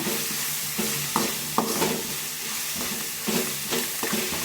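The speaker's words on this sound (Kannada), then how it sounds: "ನೀಟಾಗಿ ಎಣ್ಣೆದಲ್ಲೇ ಆಲೂಗಡ್ಡೆ ಫ್ರೈ ಆಗಬೇಕು" Potato pieces frying in oil in a home kitchen pan, steady broadband sizzle with a few sharp scrapes and clinks of stirring, close and fairly loud, no talking.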